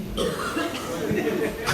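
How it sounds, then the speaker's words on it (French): A single person in a comedy show audience coughs a few times in quick, rough bursts, close to the microphone. "J'ai reçu une toux comme réponse."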